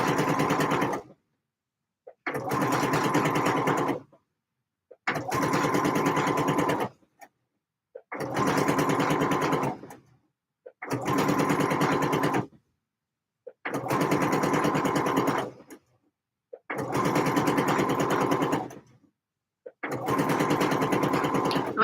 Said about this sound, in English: I'm sewing my 6th line of stitching.